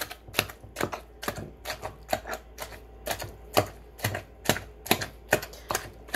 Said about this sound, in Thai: เสียงตำไอ้นี่มันรำคาญกับปิดเสียงเด้อจ้ะ